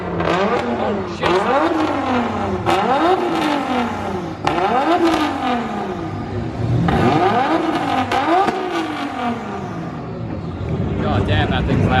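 Drift car with an 800–900 horsepower RB30 stroker engine, 26 head and dry sump, revving hard in repeated loud rising-and-falling surges at a drift event in Queensland, close and continuous, with voices faintly underneath.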